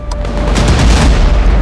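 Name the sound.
explosions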